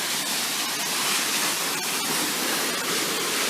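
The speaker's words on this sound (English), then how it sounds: "Sounds like a waterfall over here." Steady, loud roar of a waterfall along the Twin Falls Ridge trail, water pouring down over jagged rocks in a continuous broadband rush that fills the whole clip with no voices.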